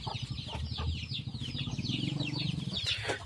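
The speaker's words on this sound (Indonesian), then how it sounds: "ini juga ada ayam" Chickens clucking and squawking close by, with several birds calling over one another and a brief flutter of wings.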